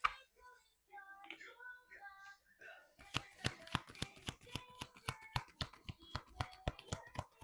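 A deck of reading cards being shuffled, a rapid run of crisp riffling slaps and taps that starts a few seconds in, close and fairly loud, after a stretch of a voice speaking alone.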